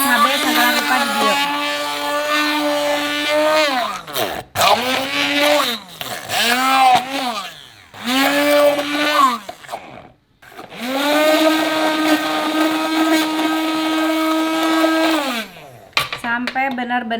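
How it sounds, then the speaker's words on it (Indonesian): A kitchen blender pureeing tomatoes runs loud and whirring in several long bursts, pitch dipping as each stops and restarts, with brief pauses between runs. "Setelah tomatnya di blender ya"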